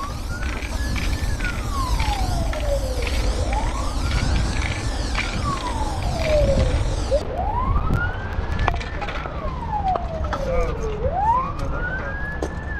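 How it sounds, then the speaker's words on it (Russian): A small fire truck's wailing siren sweeps up and down in slow repeating cycles, moderately loud over a rumbling traffic background. "Это пожарка."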